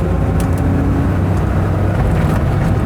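A car engine runs after shifting into second gear, giving a loud, steady, close-up drone with a low rumble that stays constant throughout.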